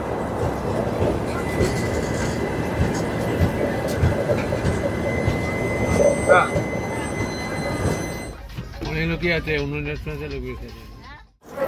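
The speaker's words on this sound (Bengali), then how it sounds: "ট্রেনটা কিন্তু মানে নির্ধারিত সময় থেকে প্রায় 10 মিনিট ফাস্ট চলছে" The 13009 Doon Express on its Howrah to Haridwar run rolls toward Varanasi with a continuous loud rumble of wheels and carriages, a brief squeal midway, then fades as a voice takes over at the end.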